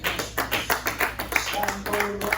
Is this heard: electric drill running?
no